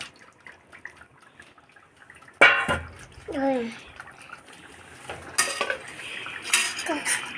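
A spoon stirs mutton gravy in a metal cooking pot, giving a sharp clank followed by scraping, sloshing stirs and further metallic knocks, close and moderately loud.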